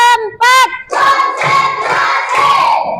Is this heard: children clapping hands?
yes